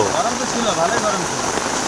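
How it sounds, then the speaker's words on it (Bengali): Steady rain falls in Old Malda, West Bengal, a continuous broadband hiss of drops on surfaces, fairly loud and even throughout, with faint voices murmuring underneath. "পুরাতন মালদাতেও বৃষ্টির দেখা মেলে"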